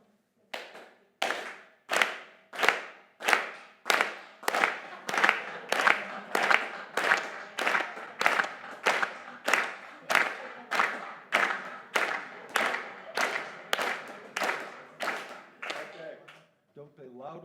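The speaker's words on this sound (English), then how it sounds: "Let's start clapping on this side." An audience at a music workshop claps together in a steady rhythm, about twenty sharp, evenly spaced claps ringing out clearly in a room, with no talking over them.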